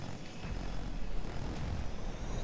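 Transport chopper in a video game: a continuous low engine drone with a throbbing rotor hum, moderately loud and steady for the whole stretch, with no talking.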